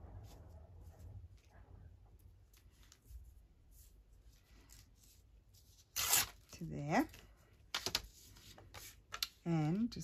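Paper torn by hand while making recycled envelope window flips, with a few short ripping bursts near the end after a quiet stretch, and a voice speaking between them.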